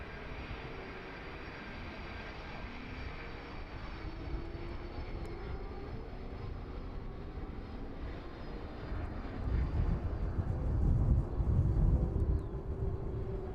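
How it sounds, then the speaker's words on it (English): A Boeing 767 approaching to land at East Midlands Airport in the evening, its engine roar a steady distant rumble that swells louder toward the end as it draws nearer. "767 making its way in from JFK this evening"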